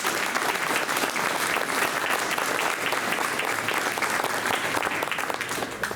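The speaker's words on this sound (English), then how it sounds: "I applaud you." Sustained audience applause at a veterans hall of fame induction, a dense, steady wash of clapping hands filling the room for the whole stretch before tapering slightly at the end.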